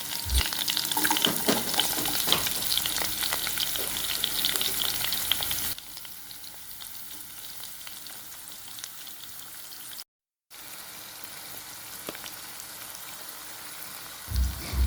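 Garlic, green chillies, onions and tomatoes fry in a pan, a loud steady sizzle with stirring for the first six seconds before dropping to a quieter hiss that swells again at the end.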